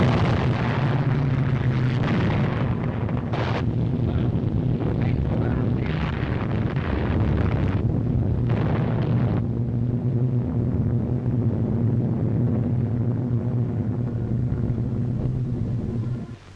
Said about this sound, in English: We'll have to get the RAF to bomb it.